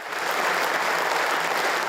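Steady applause from a large crowd after two minutes of remembrance silence, a dense even patter of many hands clapping with no voices standing out.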